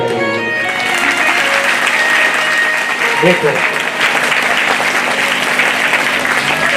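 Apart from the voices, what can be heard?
audience applauding at Bhagavat Katha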